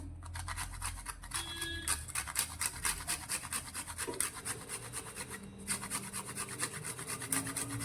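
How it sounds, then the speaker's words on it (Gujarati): Rhythmic rasping strokes of a nutmeg being rubbed against a grater, fast and repeated, close up and steady for several seconds. "1 જાયફળ લીધું છે, જેને આપણે અડધું અંદર આ રીતે ઘસી અને એડ કરીશું."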